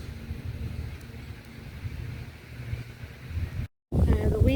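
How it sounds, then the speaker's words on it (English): Strong wind gusting across an outdoor cemetery, a steady rough rumble buffeting the microphone throughout, briefly cutting out before returning loud and close. "The wind's really picked up,"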